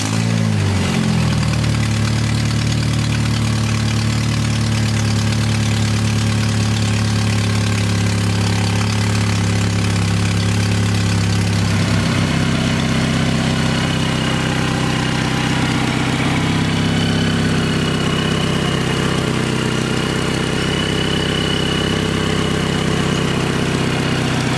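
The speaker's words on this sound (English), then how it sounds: "the car is definitely idling" A supercharged 2.2L Ecotec LAP car engine cranks and starts, then settles into a loud, steady idle with a constant low rumble and a whining hum, close up and without talk.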